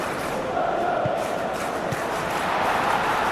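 Stadium crowd roaring steadily in PES 2021 during Belgium vs Egypt, a dense continuous wash of distant voices and chanting with a commentator talking over it.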